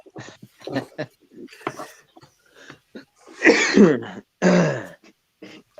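Several harsh throat-clearing coughs, close and fairly loud, follow a stretch of quieter vocal sounds, with two strong bursts standing out near the end.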